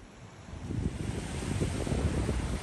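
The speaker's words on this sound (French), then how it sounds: "Un petit vent, par exemple." Steady wind blowing beside a bay in a park, a broad rushing roar that builds slightly and stays constant, with a wave-like wash and no voices.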